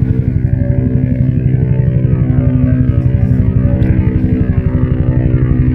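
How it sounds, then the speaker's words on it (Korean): A helicopter thuds nearby with a loud, rapid, steady rotor chop and deep engine drone that continue unbroken throughout, with no one speaking. "헬리콥터 소리가"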